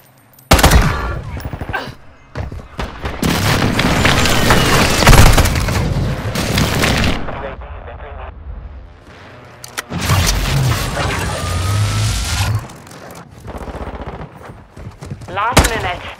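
Heavy booms and rumbling blasts from a precision airstrike in the video game Call of Duty Modern Warfare 2 hit in loud waves, mixed with gunfire and voices.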